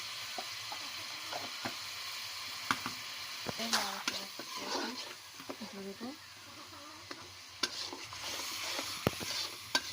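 Turmeric, nuts, chili, garlic and onion sautéing in a pan, a quiet sizzle under repeated scraping and stirring clicks of a spoon, with a voice speaking briefly in the middle.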